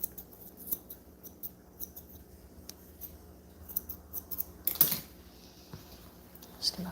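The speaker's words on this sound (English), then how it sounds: "I use these scissors because they don't leave as many marks as the other one, as the other pair" Grooming scissors snip through the matted fur of a Coton de Tulear dog in a quick series of close, crisp metallic cuts, some clustered together and a louder snip near the end.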